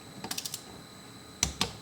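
A torque wrench clicks while tightening head bolts on a Mk2 Supra engine during reassembly: a quick run of five light, close clicks, a pause, then two sharper, louder clicks, with no talk.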